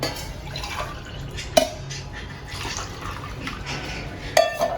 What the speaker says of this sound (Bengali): তিন গ্লাস পানি দিয়ে দেবো